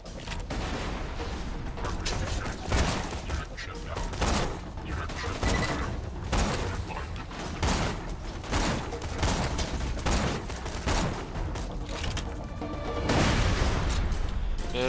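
Gunfire from the video game Borderlands 2, meant to be a sniper rifle, rings out in dense repeated cracks and booms throughout, with sharp shots layered over a busy battle din at moderate level.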